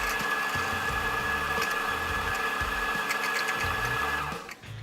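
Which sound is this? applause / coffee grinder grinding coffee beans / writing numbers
coffee grinder grinding coffee beans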